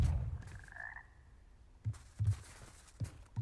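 Frogs in the video game Hogwarts Legacy give a few low, close croaks in separate bursts over quiet game ambience, with no talking.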